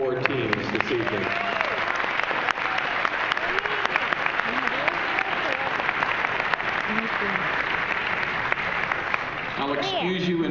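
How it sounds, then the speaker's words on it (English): Sustained audience applause for four competing FDNY teams at an evening games event, steady dense clapping filling the whole stretch with no break, voices faintly mixed into the crowd. "So again, a nice round of applause for all four teams this evening."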